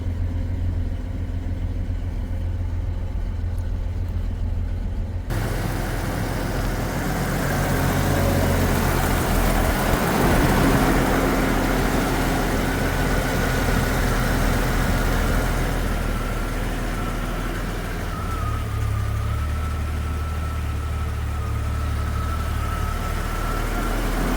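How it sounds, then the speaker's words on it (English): A 1987 Jeep XJ engine idles steadily after an alternator and battery replacement, a continuous low rumble with a faint whine, fairly loud and close, with no talking. "Idling good."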